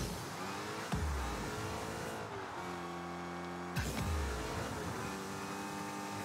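Dodge SRT Hellcat engine in the Rocket League Fast & Furious DLC, revving hard and accelerating in loud surges, with a sharp burst near the start and again midway, shifting pitch between steady high-rev stretches.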